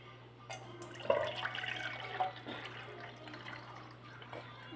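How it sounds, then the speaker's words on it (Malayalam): Homemade apple juice poured into a glass, a gurgling liquid stream that starts abruptly and splashes for a few seconds before tapering off, quiet over a low background hum, no voices. "ഗ്ലാസ്സിലേക്ക് ഒഴിച്ചു"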